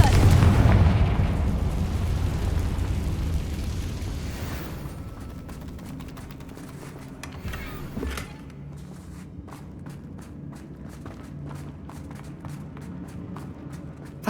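Hogwarts Legacy's Confringo spell sets off a loud, close booming explosion that rolls and fades over several seconds, followed by quieter footsteps and scattered clicks in the aftermath.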